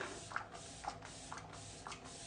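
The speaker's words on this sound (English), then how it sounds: "I'm gonna take that same Set and Stay spray and I'm gonna spray my face" Set and Stay setting spray is misted onto a face in about five short soft hissing bursts, evenly spaced and close, with no talking.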